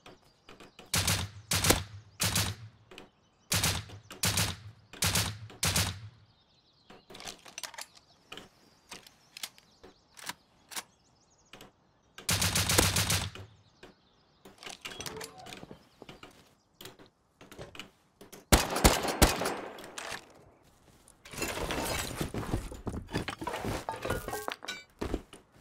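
Gunfire in the survival game Rust: rapid bursts of loud, sharp shots in rhythmic volleys, with pauses between strings, then denser sustained firing near the end.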